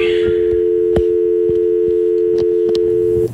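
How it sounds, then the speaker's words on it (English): A telephone line tone during an outgoing call to emergency services, a single steady electronic hum held loudly for about three seconds before cutting off, with faint clicks beneath. "It's ringing."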